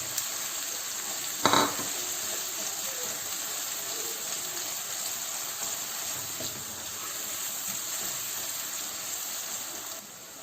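Steady sizzling of onions frying in a pan, a continuous hiss with a brief clatter of stirring near the start.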